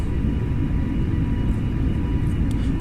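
An Airbus A320 in Microsoft Flight Simulator rolls for takeoff, a loud, steady, deep rumble of jet engines and runway roar that holds unbroken throughout.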